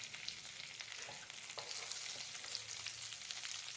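Curry leaves and cumin crackle and sizzle in hot oil in a pan, with a steady close frying hiss and scattered small pops.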